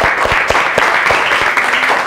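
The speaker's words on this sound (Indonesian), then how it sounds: "beri tepuk tangan untuk kelompok 9" A classroom of students claps for a student group, a brief burst of close, uneven applause with scattered hand claps continuing throughout.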